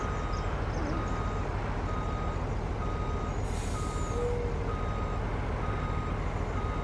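A truck backing up in Farming Simulator 19 while hauling sugar, its reversing alarm beeping in a steady repeated rhythm over constant engine rumble, with a short hiss of air partway through.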